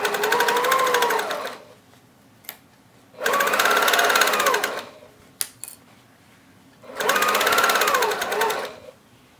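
Sewing machine stitching the bottom of a fabric tote bag to its side, three separate runs of fast, even whirring stitches with quiet gaps and small clicks between them.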